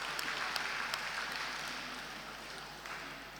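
Conference audience at a legal professionals' session applauding Professor Agbo Madaki, a moderately faint, steady spread of clapping that slowly tapers off.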